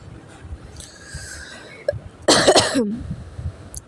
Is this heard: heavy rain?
no